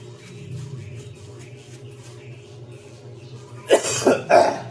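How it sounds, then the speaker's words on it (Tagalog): A few harsh coughs come in quick succession near the end, loud and close, after a stretch of quiet low background hum. "Grabe yung ubo ko."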